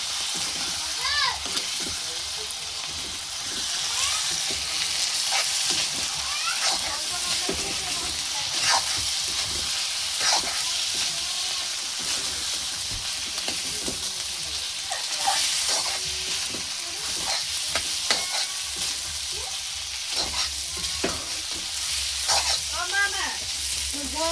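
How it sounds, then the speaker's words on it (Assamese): A ginger, garlic and chili paste sizzles in a hot pan with a steady, bright hiss. Spoon scrapes and stirring clatter recur throughout, and a voice talks intermittently over the frying. "আদা নহৰু জলকীয়া পেষ্টটো ঢালি দিছোঁ। এইটো আৰু একবাৰ চলাই দিম।"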